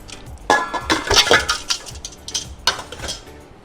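Raw chicken pieces are moved into a round metal vessel, bringing a series of clanks, scrapes and clinks of metal on metal in irregular bursts, fairly close and alone.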